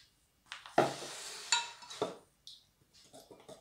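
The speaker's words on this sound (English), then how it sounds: "Then with your spoon, you give it a mix." A spoon stirs a homemade play dough mixture of flour and water in a bowl, giving a few short scraping strokes and clinks close by, separated by brief pauses.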